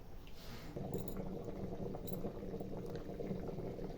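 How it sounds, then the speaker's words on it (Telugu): Steady bubbling and simmering of chicken masala curry boiling in a pot, close and continuous throughout, with a faint clink or two. "మంచిగా ఉడుకుతుంది ఇట్లా"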